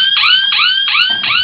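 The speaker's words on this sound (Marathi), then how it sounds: "हे जर दोन्ही सँडल टच केले एकमेकाला तर एक सायरन वाजायला" A loud electronic siren from a women's safety sandal device, triggered when the two sandals touch, wails in rapid repeating upward sweeps, close and alone without talk.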